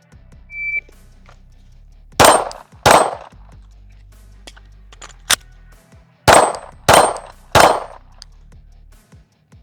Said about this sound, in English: now we're gonna try to clear the plate rack, which is it's just more fun.